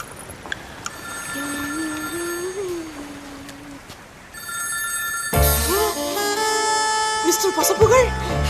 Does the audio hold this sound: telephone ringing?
yes